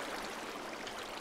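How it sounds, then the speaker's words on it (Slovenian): Water poured into a Minecraft video game build rushes in a short, steady wash of bright hiss, like a stream flowing continuously without break. "eno kocko nad tem vodo polijemo"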